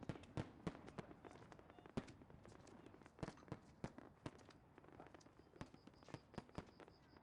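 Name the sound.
firecrackers going off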